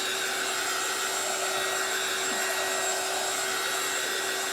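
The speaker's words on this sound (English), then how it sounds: "My new heat tool that Dorothy got me." A heat tool blowing hot air to dry a freshly painted craft sign: a loud, steady whooshing hum with a constant motor whine, running unbroken close to the microphone with no one talking.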